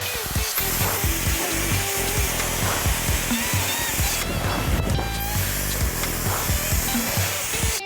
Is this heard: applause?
no